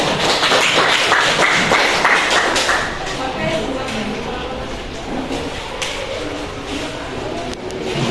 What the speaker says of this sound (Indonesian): Kita berikan aplaus untuk kelompok 2